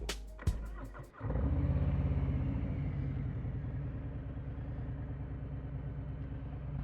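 A 2023 Harley-Davidson Street Glide Special with 14 miles on it starts with a few sharp clicks, then settles into a loud, steady, close rumbling idle with a pulsing beat.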